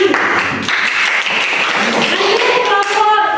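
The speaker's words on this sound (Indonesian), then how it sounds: "Tepuk tangan dulu." Students clapping together in a classroom during a physical education lesson, a brief burst of close, fairly loud applause from a small group with a few voices mixed in.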